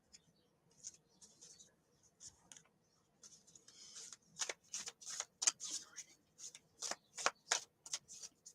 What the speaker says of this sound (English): I always hold my decks like this when I shuffle, Sid.